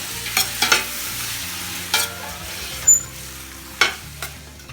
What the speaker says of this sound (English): Mix for a minute.